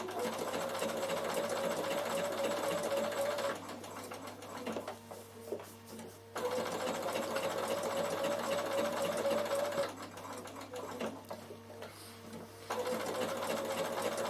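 A sewing machine runs in fast, even bursts of stitching, pausing twice between runs, with quiet handling sounds in the gaps.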